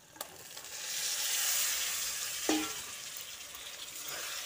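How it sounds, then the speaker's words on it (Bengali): Fried chicken goes into a masala and sizzles in a bright, rising hiss that swells and eases, with a sharp clack of a spoon or pan midway and light stirring after. "এবার এই পর্যায়ে ভেজে রাখা চিকেনটা দিয়ে দিচ্ছি।"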